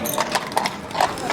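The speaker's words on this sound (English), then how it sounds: "Nearly got run over by the horses." Horses' hooves clip-clopping on pavement in Budapest's Castle District near the presidential residence, several close, crisp strikes in an uneven rhythm.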